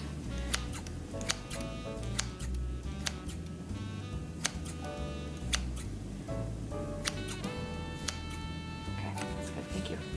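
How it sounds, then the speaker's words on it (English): Knife repeatedly cutting pork fat into small chunks on a board, with soft irregular taps and clicks at a quiet, close level over a steady background hum. "So now we're going to cut it up into little chunks."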